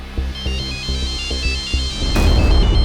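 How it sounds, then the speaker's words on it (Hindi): A mobile phone ringing for an incoming call, a rhythmic electronic ringtone melody with repeated plucked notes, fairly loud and steady, with a rush of noise rising near the end. "बेटा, पूनम के पापा का फोन है।"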